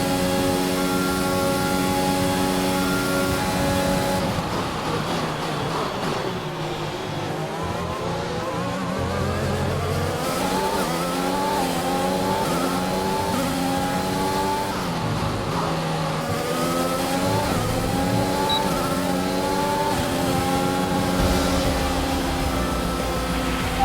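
Formula 1 car in the F1 2021 racing game on a final lap, engine droning loud and continuous with rising and falling rev sweeps through gear shifts for the whole stretch, no talk over it.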